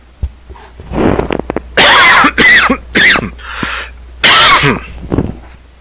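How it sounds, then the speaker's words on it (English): A person with a cold, mic partly covered, gives a run of loud, close coughs and throat clearings in irregular bursts separated by short quiet gaps. "I'm going to try to cover my mic a bit, and I'm going to cough"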